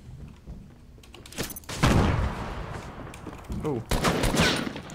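Bursts of submachine gun fire in Fortnite, ragged and fairly close, with quieter stretches between and a loud volley near the end.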